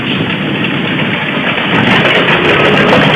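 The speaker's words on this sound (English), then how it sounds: "we've got about 20 tractors coming through so far" Tractor engine idling at an outdoor fall festival, a steady broadband rumble that holds constant and grows slightly louder toward the end, with no voices over it.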